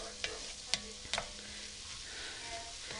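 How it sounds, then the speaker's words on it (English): Flour being stirred into melted butter in a pot for a roux, with a few quick scrapes and taps of the utensil over a faint, soft sizzle, close and quiet. "you want to keep stirring it because you don't want that flour to burn"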